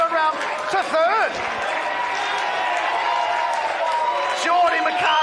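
Crowd at a baseball state league grand final at West Beach applauds and cheers after a clutch hit, a loud, continuous wash of clapping and whoops with commentators talking over it.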